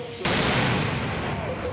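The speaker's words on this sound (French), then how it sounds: "Ils sont pas un peu dangereux ces pétards-là?" A professional-grade firework mortar charge explodes near the Franco-German border with a sudden loud blast, then a dense roaring wash of noise that fills the rest of the moment.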